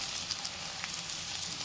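Chopped tomato sizzles in hot oil with fried ginger-garlic paste while making chicken pulao; a steady, close crackling sizzle runs unbroken through the short stretch, with no voices.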